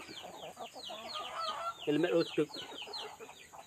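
A sick chicken with a nerve ailment and stiff legs clucks softly, with a few louder clucks near the middle, close and quiet, while a person speaks briefly.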